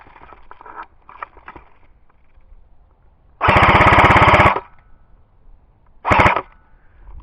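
A modified M16 rifle fires on full automatic outdoors: one loud sustained burst of about a second, then a shorter burst, with faint voices murmuring before.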